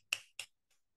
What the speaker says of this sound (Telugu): చిట్కలేసేయండి.